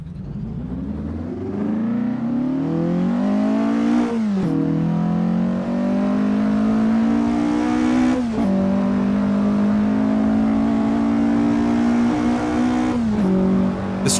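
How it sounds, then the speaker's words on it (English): A 1957 Porsche 356 Speedster's engine in the Assetto Corsa racing game at the Deutschlandring, droning loud and steady as it climbs through the revs, with brief dips at three gear shifts. "I'm again in the Porsche 356 Speedster 1957 era car"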